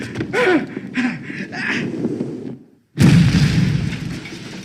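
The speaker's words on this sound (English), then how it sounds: "I really like the kind of elaborate setup to the exploding toilet" An exploding toilet from Home Alone 2 goes off as a sudden loud boom after a brief silence, with a roaring, rumbling blast tail; voices and commotion precede it.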